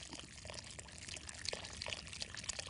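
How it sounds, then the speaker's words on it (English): Hot water pours into the middle of a bowl of dough ingredients for Italian cooking, a faint, soft splash and trickle lasting a couple of seconds in a quiet kitchen. "you can pour the hot water right into the middle of this"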